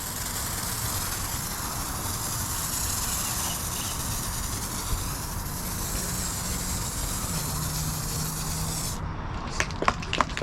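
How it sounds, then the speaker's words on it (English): A small hand-pump sprayer mists car wash foam onto a car in a steady, close hiss for about nine seconds, then cuts off, followed by a few sharp clicks. "it's just a lot of pumping with this small little pump sprayer"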